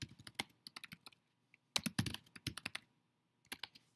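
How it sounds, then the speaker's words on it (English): Someone types on a computer keyboard in quick, uneven bursts of close, crisp key clicks, with a short pause in the middle before the typing picks back up. "If I start typing something, I am typing something."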